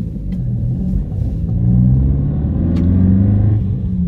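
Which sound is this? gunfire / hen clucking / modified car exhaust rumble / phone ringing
modified car exhaust rumble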